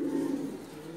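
A Lal Patti pigeon coos close by, one soft low throaty coo swelling and fading over about a second, with no voices.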